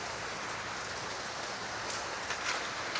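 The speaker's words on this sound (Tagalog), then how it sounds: "Payong tayo kasi malakas po ang ulan." Heavy rain pours down on a small mini farm in a steady, dense hiss that never lets up, with no voices heard.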